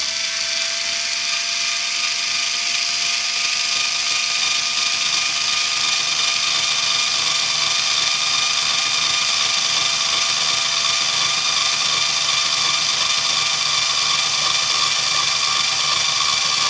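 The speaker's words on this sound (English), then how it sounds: "we will drill a pilot hole with our cordless screwdriver" Cordless screwdriver spinning a bit to drill a pilot hole in a control panel, a steady high-pitched whine that stays close and unbroken for its full length, with no talking.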